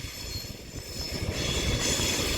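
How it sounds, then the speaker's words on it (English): An Avanti West Coast Class 390 Pendolino pulls out of London Euston, its rumbling wheels and traction hum building steadily in loudness with a faint high whine over the top. "now departing is going to be Avanti West Coast Class 390 Pendolino"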